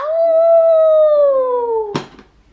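A young child imitates a wolf howl, one loud sustained tone that slowly falls in pitch for about two seconds, then breaks off abruptly into a short breathy burst.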